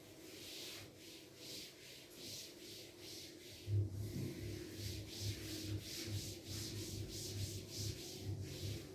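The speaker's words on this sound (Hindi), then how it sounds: "तो मैं इस टेबल को रब करने जा रहा हूं" A classroom table or board rubbed clean with an eraser, a continuous close scrubbing rasp in rhythmic back-and-forth strokes, alone without speech, over a low steady hum.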